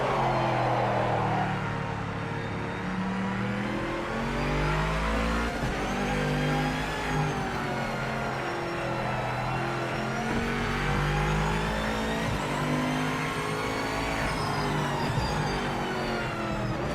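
A race car engine in the Project Motor Racing simulator game roars and revs continuously, pitch climbing and falling through gear changes, loud and close with no talking.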